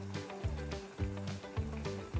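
Kimchi stew with sauce, meat and vegetables simmering over medium heat, giving soft repeated bubbling and gentle sizzle at a low level, heard alone.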